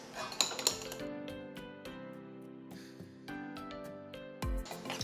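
Utensils clinking and scraping against bowls as cotton candy ice cream base is mixed, irregular light metallic taps and rattles, close and moderately loud.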